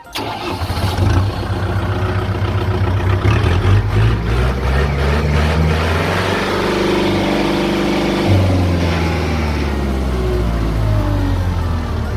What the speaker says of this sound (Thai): เดี๋ยวเราลองมาทดสอบ สตาร์ทเครื่องยนต์ดู